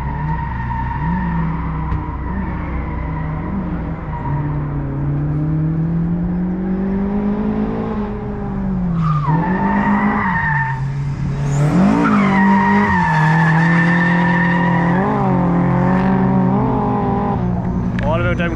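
A Toyota AE86 drifting at a drift matsuri event, engine revving hard and rising and falling through the gears, with sustained tire squeal and skidding, loud and close throughout.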